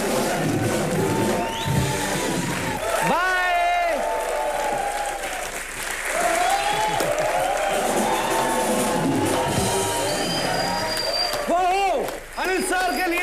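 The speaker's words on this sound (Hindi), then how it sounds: "अनुष्का के लिए जोरदार तालियां हो जाए जरा।" A crowd at a music show applauds for Anushka with a loud, sustained wash of clapping and some cheers, while voices talk over it.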